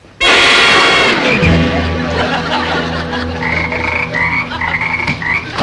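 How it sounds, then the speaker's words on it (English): In a classroom, a frog croaks loudly and close, one long raspy call followed by a sustained low rattling drone with higher wavering tones layered over it. "All right, Mr. Krebs, what is this frog doing here?"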